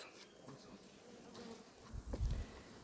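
Honey bees buzz around an opened beehive during a hive inspection, a steady low hum of many insects with a louder, closer swell near the end.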